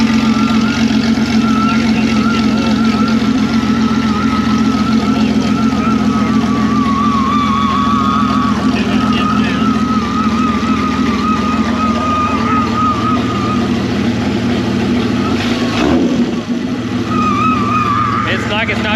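A 4.0 engine runs hot with its valve cover off, giving a loud, steady, close idle with a constant low drone and clatter throughout, while someone talks over it.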